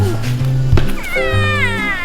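A cat meows several times up close, drawn-out wavering cries with a short pause between them and no speech over the calls.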